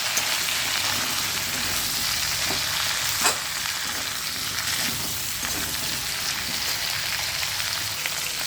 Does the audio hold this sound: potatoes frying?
yes